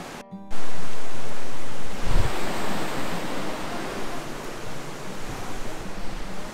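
Steady rushing of flowing water heard close up from a wall beside it, a broad continuous wash that surges briefly louder and then settles into an even roar with no voices.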